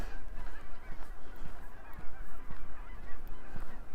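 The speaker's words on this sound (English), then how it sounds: "Lots of geese flying around." Geese honk repeatedly in overlapping calls as they fly around a snowy lake in Regina in April, a constant chorus of mid-distance honking with no speech.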